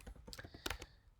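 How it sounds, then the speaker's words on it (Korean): Keyboard typing at close range: a run of quick, uneven key clicks with one sharper strike near the middle, from someone entering code on a computer keyboard. "그렇다면 교재 464페이지 아래에 있는 코드를 한번 타이핑해 보겠습니다."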